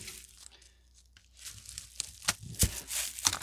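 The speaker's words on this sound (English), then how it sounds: "See if I can undo the tape. I guess we'll just cut it." Packaging tape being peeled and cut on a small padded package, with close, crinkly tearing bursts that sharpen toward the end.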